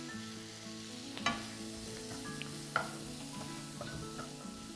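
Spices with red chili, coriander powder and garam masala are stirred in a sizzling pan for methi malai matar, a steady close frying hiss broken by two sharp clinks of a spoon against the pan.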